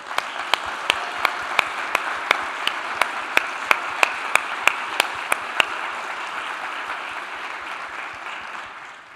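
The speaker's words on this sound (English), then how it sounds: "So a huge round of applause to these sponsors for helping us." Audience applause at a tech conference, a steady broad wash of clapping from a crowd with sharp, regular louder claps punctuating the first half before the clapping continues more evenly and fades slightly.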